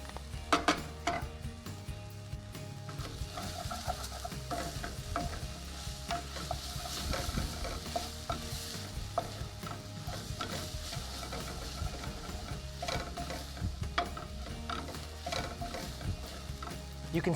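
A diced onion mixture with finely chopped, de-seeded green chili fries in a pan as burger prep, giving a continuous close sizzle broken by frequent scraping and clicking stirs.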